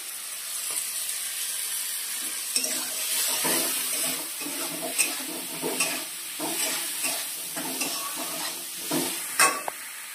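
Shrimp being fried and stirred with cumin powder in a pan, a close bubbling sizzle under a series of scraping stirs and light clinks, with no speech.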